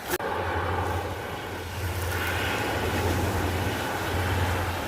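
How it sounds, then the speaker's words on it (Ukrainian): Firefighting aircraft flying over mountains near the Tyrrhenian coast of Italy, a steady loud engine drone with a deep low hum that holds constant throughout, with no talking. "Як в Італії е, тушать пожежу літаками."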